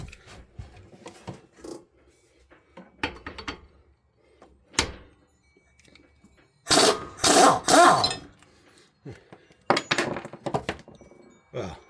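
An AC Delco impact wrench works a rust-treated, stuck fastener in short bursts of loud hammering rattle, separated by quieter pauses, clunks and handling noise.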